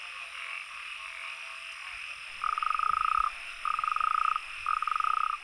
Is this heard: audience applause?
no